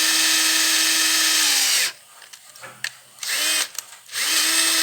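A power drill boring out a broken stud on a Bombardier engine whines loudly and steadily, cuts off, then gives several short bursts before spinning up again near the end.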